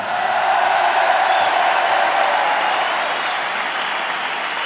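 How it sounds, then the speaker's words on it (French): Large stadium concert crowd at the Stade de France applauding for an orchestra and performers, a dense wash of clapping with scattered whoops, loud and sustained before easing slightly. "Alors on les applaudit bien fort."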